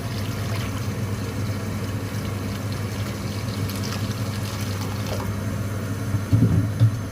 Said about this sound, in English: And I'm going to add 3 cups of water.